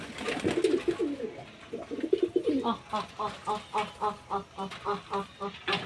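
Pet pigeons being fed paddy grain make low warbling coos, then a steady run of evenly spaced, throaty bursts repeating roughly twice a second, close and fairly quiet, with no talking.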